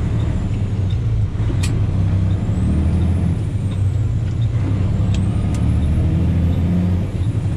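A heavy dump truck's diesel engine drones loudly and steadily up close as it shifts gears without the clutch, a deep rumble with a few brief, sharp hisses cutting through.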